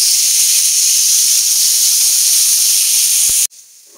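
Tomatoes sizzling in a frying pan on a home stove, a loud steady hiss lasting several seconds before cutting off abruptly to a quieter background.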